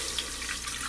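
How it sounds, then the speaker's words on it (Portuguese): Water poured from a glass into a pressure cooker while making empadas, a steady close splashing stream lasting about a second. "Vamos colocar um copo americano de água."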